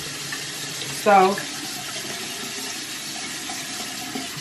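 Water pours steadily from a tap during a skincare face wash, a constant hiss in the background, with a brief spoken word partway through.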